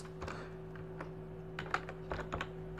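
Fingers type on a computer keyboard in a quiet room, giving a short run of soft, irregular key clicks with a few sharper taps toward the end, near and faint, with no speech.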